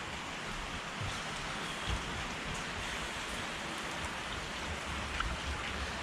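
Steady rain pours down around wooden houseboats at a floating market in Srinagar, Kashmir, a dense, even hiss of drops drumming on surfaces with no voices and no letup.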